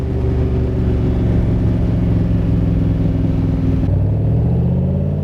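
A 1965 Shelby Cobra replica, a Superformance MKIII, accelerates hard, its engine a loud, close, continuous rumbling growl that rises in pitch, with a gear change partway through followed by climbing revs.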